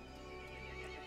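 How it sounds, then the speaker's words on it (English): A horse neighing in the video game Resident Evil Village, a sustained tonal whinny layered over a dense, droning game ambience. "The horse grew angry and summoned the other monsters."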